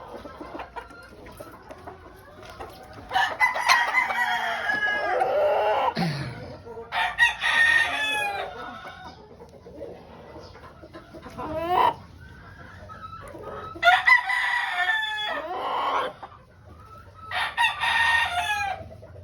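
Tornado hatch gamecock nearly three years old crows several times in long, strained calls separated by quiet gaps, with a few softer clucks in between, close by and clear.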